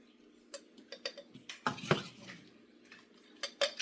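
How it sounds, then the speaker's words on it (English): Ground homemade ginger being scooped with a spoon into a jar, heard as close, quiet clinks and scrapes of metal on glass in an irregular series of taps. "And I'm going to scoop it in this jar."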